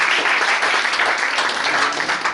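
A church congregation breaks into dense, sustained applause, a steady wash of many hands clapping at once that fills the room at an even level throughout.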